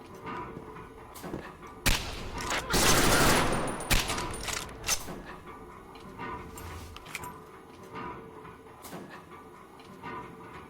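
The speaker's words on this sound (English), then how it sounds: "Gunshots." Gunshots in a video game ring out as a series of sharp cracks and a dense burst of rapid fire, fairly near, followed by scattered thumps and softer shots over a low background.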